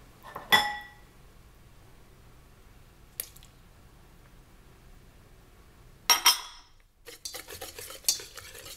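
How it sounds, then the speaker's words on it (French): An egg goes into raspberry crumble muffin batter, with a few brief clinks and wet squishes against a bowl, then stirring sounds, separated by quiet gaps. "Je vais ensuite ajouter l'œuf."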